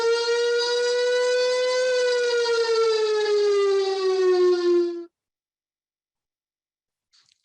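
LRAD emergency warning system sounding a single steady siren tone that slowly slides downward in pitch for about five seconds, loud and clear, then cuts off into silence.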